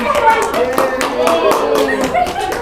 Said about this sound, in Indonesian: berikan aplaus dulu untuk kalian semua